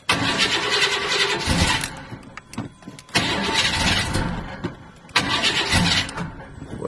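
An old car in rough condition cranks repeatedly, its engine catching and sputtering in three loud bursts, close and harsh, with uneven starter grinding between attempts.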